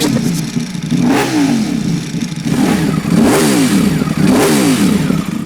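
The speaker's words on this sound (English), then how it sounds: "This bike has a deeper sound." A Ducati Panigale V4 superbike engine revs repeatedly with a deep, hollow growl, rising and falling in several throttle blips, loud and close throughout.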